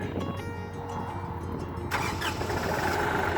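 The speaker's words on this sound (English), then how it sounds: "Okay, so go ahead and start the tractor." A tractor engine cranks and catches, rumbling steadily at close range before a rise in revs near the end, with no talk over it.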